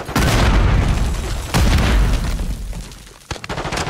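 A grenade blows up in the Call of Duty Modern Warfare 3 video game, making a loud, close, rumbling boom with a second blast a moment later, then debris sounds as the blasts fade out.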